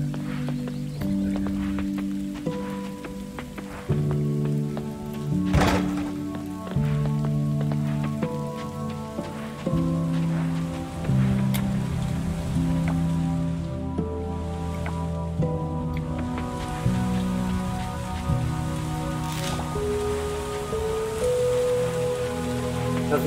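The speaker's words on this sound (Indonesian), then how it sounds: "Soalnya lagi hujan badai di sini." Heavy storm rain in the farming game Coral Island hisses steadily throughout, partly masked by louder melodic in-game music, with no talking.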